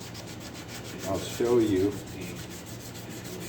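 A short burst of hand sanding rubs across a surface, a couple of scratchy strokes close by and fairly quiet, with a brief spoken remark mixed in.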